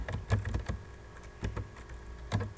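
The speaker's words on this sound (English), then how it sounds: "I'm going to type my name" Quick, light keystrokes on a computer keyboard, clicking close up in short irregular bursts with small pauses between them.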